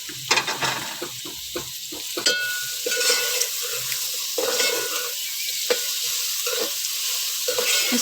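Onions fry in a pan with karela and chana dal, a steady sizzle broken by repeated scraping stirs, close and fairly loud with no talking.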